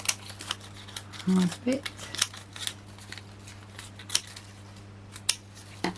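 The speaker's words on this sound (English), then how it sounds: "where's that little lonely foam pad? So let's just cut that down" Scissors snip through a small craft foam pad in a series of short, sharp cuts amid quiet rustling, with someone briefly speaking nearby.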